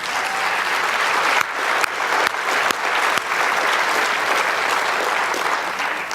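Convention audience in Las Vegas breaks into sustained, dense applause from many hands, loud and steady throughout with a few sharper claps standing out near the start.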